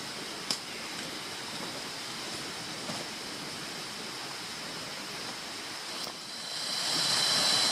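A main river near Pekanbaru, Indonesia, rushes steadily throughout, a constant broad roar that swells louder toward the end.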